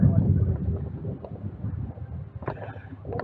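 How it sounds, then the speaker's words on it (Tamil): Strong wind blowing outdoors at a scenic spot in Palakkad, a steady rumbling roar across the microphone, loud and continuous with gusty swells, brief birdlike chirps near the end. "செம்ம காத்தடிக்குது."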